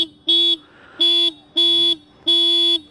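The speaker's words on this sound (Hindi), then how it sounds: "हॉर्न सुनाता हूँ," Horn of a Yamaha XSR155 motorcycle sounding four short, loud, evenly spaced beeps, close up with quiet pauses between them.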